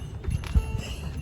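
Donkeys' hooves clip-clopping on the stone steps of Santorini, a few distinct hollow knocks in uneven rhythm coming from close behind, set against outdoor background noise.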